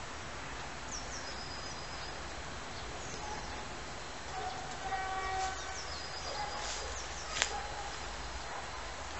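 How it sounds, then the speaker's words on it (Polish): A train rumbles steadily past at close range, with faint squeals and a brief sharp high tone near the end. "Jedzie pociąg z bliska."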